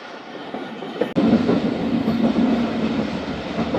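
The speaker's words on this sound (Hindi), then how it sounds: "प्रेम नगर से निकली ट्रेन हमारी दोस्तों" The Khyber Mail passenger train runs between Lahore and Karachi in Pakistan, a loud steady rumble with rhythmic clickety-clack of wheels on rail joints heard from on board after a sudden jolt.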